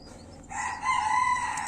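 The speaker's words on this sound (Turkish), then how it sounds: "Evet şu anda çağırıyor maşallah. Civcivleri çağırıyor." A turkey hen calls to her newly hatched chicks with one close, drawn-out tonal call that swells and holds to the end.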